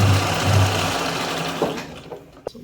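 A sewing machine runs steadily for over a second, stitching piping along a garment neckline up close, then trails off into a few small clicks and handling noises.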